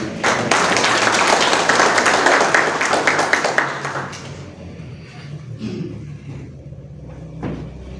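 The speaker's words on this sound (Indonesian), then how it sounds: "Tepuk tangan bagi Dia." A worship congregation at a theological college Sunday service claps hands together, a loud dense roll of applause for about four seconds that fades into room noise and scattered murmuring.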